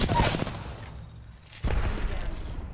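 Video game gunfire rattles out in two loud, rapid volleys separated by a brief lull.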